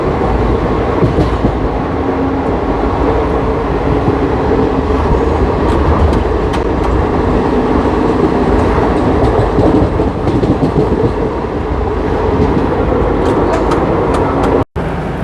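A Garib Rath Express train running, heard from inside a 3rd AC coach: a loud, steady rumble and rattle of wheels on track continues throughout, with a brief dropout near the end.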